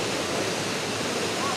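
A steady, dense rush of falling water from a waterfall at the Guci hot spring area in Tegal fills the scene, a continuous broadband roar with no breaks.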